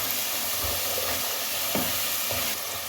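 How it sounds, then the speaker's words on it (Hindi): Peas with fennel powder and garam masala sizzle steadily in a pan, a close, continuous frying hiss with faint stirring scrapes and no talking. "इसके अंदर भून लें इसको भी साथ।"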